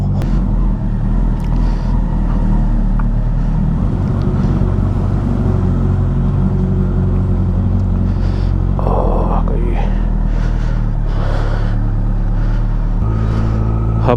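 A motorcycle rides on a road near Bangalore in the morning, its engine a loud, steady low drone with wind rush throughout and a brief higher whine midway.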